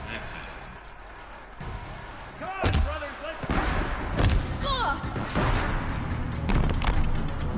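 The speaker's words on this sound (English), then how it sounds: "It's got a Deathbringer cannon." Deathbringer cannons fire during a Horizon Zero Dawn battle, heavy booming thuds and impacts landing in bursts amid other in-game effects and chirps, with a person talking over the action.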